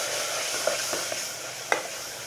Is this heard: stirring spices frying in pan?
yes